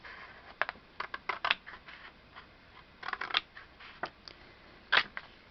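Cardstock is cut along a score line, giving a series of short, crisp snips and clicks in irregular bursts, close and fairly sharp against a quiet background.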